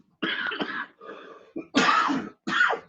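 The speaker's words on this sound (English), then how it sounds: "don't mean to cough into the microphone like that." Several harsh coughs and throat clearing right into a microphone after water went down the wrong pipe, coming in four or five close bursts separated by brief silences.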